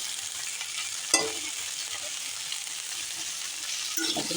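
Vegetables fry in a covered pan for sabu khichuri, giving a steady hiss with a sharp clank of a lid or spoon early on and another scrape near the end.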